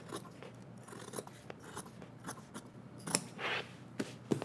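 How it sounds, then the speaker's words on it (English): Dressmaking scissors snip through fabric while a jumpsuit is sewn, with a run of short, crisp cuts spaced irregularly and close by, plus a couple of sharper clicks near the end. "take your scissors and snip right to that dot on both sides"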